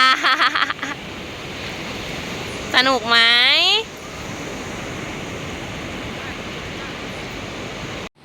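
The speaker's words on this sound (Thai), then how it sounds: "คลื่นสูงมากเลยค่ะ" High ocean waves roll onto the beach at Laem Mae Phim, a constant broad roar of surf. Children's voices call out over it near the start and again briefly around the three-second mark.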